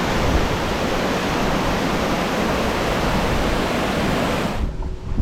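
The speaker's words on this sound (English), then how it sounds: "Saw some waterfalls." A waterfall at Prony Bay, New Caledonia, gives off a dense, steady rushing roar, close and loud, that cuts off abruptly near the end.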